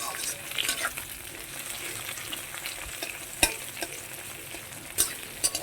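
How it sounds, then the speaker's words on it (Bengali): Tomatoes fry in a pan with a steady close sizzle, broken by occasional sharp clinks and scrapes of a spoon as they are stirred. "এখন টমেটো ভেজে নিচ্ছি।"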